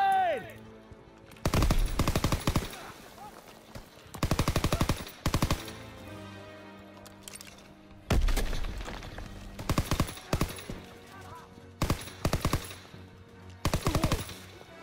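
Machine gun fire in the Call of Duty WWII video game, with long loud automatic bursts, several seconds each, separated by short pauses, mixed with in-game shouting and battle noise.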